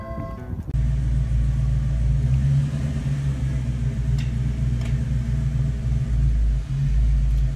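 A 1988 Fox Mustang engine idles with a steady, loud, deep low rumble that holds for several seconds, close by and without talk.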